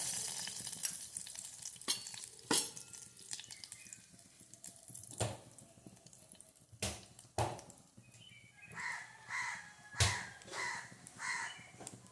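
Mustard seeds drop into hot oil and start to fry, a quiet crackle with scattered sharp pops and clicks, joined later by faint watery splashing sounds, close and fairly soft overall.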